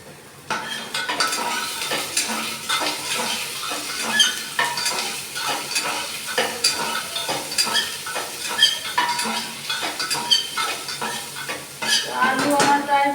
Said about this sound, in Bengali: আলু আমার প্রায় ভাজা ভাজা হয়ে এসছে